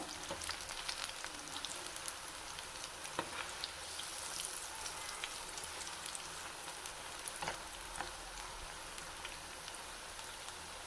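Cauliflower bajji bubbles in hot oil in a pan with a continuous, faint crackling sizzle and scattered sharp pops throughout.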